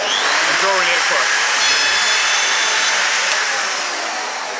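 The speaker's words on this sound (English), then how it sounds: "it's as simple as starting the router" A woodworking router scores a wood board on a Trend CDJ300 dovetail jig, giving a loud, steady, high whirring hiss close by that holds for a few seconds and then fades slightly toward the end.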